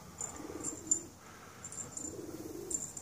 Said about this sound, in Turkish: Bu gördüğünüz güvercin benim değil.